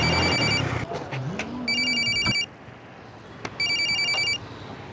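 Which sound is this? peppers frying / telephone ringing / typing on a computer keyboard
telephone ringing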